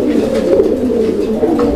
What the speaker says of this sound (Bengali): এখানে এক জোড়া কবুতর, এটা লক্ষা কবুতর একটা জোড়া।